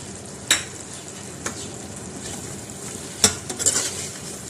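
Keema karahi with green chilli, ginger and garam masala being stirred in a pan, a faint background sizzle broken by a few sharp scrapes and clinks of the spoon against the metal.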